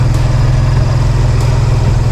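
A farm tractor engine idles steadily, a loud, close, low rumble with an even throbbing pulse that holds unchanged from start to finish, with no voices.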